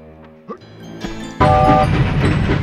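A train moving in the MediEvil video game, with a horn-like tonal blast rising over the first second before a loud, steady rumble of rolling wheels and carriage noise takes over and continues to the end, with no voices.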